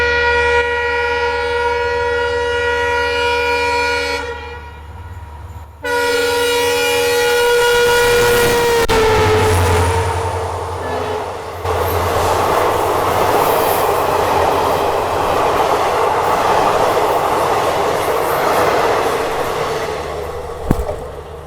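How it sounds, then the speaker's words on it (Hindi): Bathinda–Lalgarh passenger train approaching and passing on a single-track electrified line, with a loud horn blast, then a rising rumble and steady clatter of wagons rolling close by. "सामने से ये आ रही है अभी भटिंडा लालगढ़ पैसेंजर"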